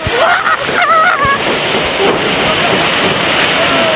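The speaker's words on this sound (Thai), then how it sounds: "ฝนตกหนักมากค่ะ" Heavy rain pours down outside a resort in Rayong, a loud, dense, continuous roar close by, with a voice briefly over it early on.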